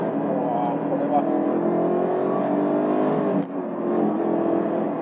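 Maserati Coupe Cambiocorsa engine revving high with a Ferrari-like howl, a steady loud drone heard from inside the car with a brief dip, probably a gear change, near the end.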